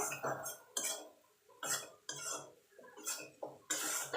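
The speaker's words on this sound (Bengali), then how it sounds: "এবার এটাকে একটুখানি মিনিট খানে নাড়াচাড়া করে নেব" Okra cooked with a mustard-poppy paste gets stirred in a pan, heard as a series of irregular scraping and clinking strokes with soft sizzling between them, close up and without speech.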